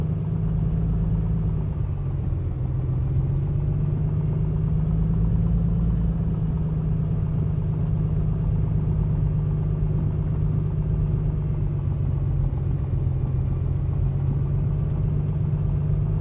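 A simulated Piper Comanche single-engine piston aircraft idles steadily while taxiing in Microsoft Flight Simulator 2020, a continuous low droning rumble with a slight dip in pitch early on and no talking.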